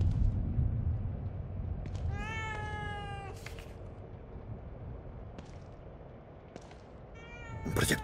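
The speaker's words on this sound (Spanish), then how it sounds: "Un gato." A cat in Evil Within 2 gives several short, clear meows spaced apart over a low, steady rumble of background ambience, with no speech.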